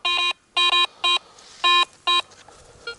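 A Garrett Ace 150 metal detector sounds over a quarter with a series of loud, clear electronic tones in short repeated bursts, some paired, separated by quiet gaps and a faint background.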